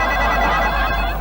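A telephone rings in a Hindi TV sitcom home scene, a steady electronic ring held loud and close through the whole moment with no talk over it.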